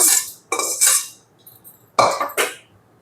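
Lemon rice mixed in a pan off the heat: four sharp bursts of a utensil scraping and clattering against metal, separated by near-silent gaps.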